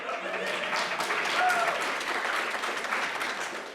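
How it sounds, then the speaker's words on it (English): Lecture audience applauding steadily at a college dean's lecture, a dense continuous wash of clapping with some voices mixed in beneath it. "That's an applause line."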